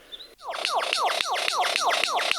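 A lyrebird mimics a car alarm, loud and close, repeating a rapid warbling siren-like whoop in a steady electronic-sounding cycle about every quarter second after a brief pause.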